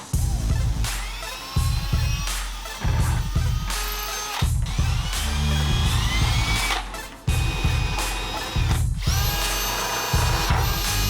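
A power drill whines loudly in several bursts, spinning up and stopping between holes drilled through a boat part in a boat yard, close by and with no talking.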